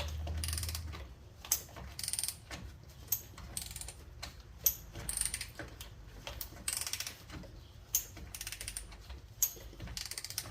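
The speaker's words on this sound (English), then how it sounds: "I do abuse these AC Delco ratchets, but they've been working for years." An AC Delco ratchet being worked on the front suspension of a Silverado Z71 truck, a rapid, irregular run of close, sharp clicking pawl sounds in repeated bursts over about ten seconds, with no talk.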